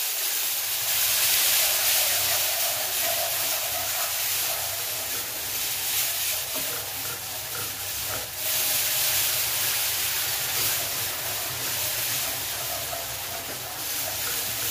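Milk poured slowly into a hot pan for a béchamel hisses in a loud, steady, steamy rush that lasts throughout, easing slightly partway before surging again.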